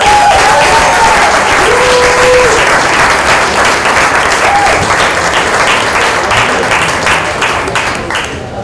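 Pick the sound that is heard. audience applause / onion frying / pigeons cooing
audience applause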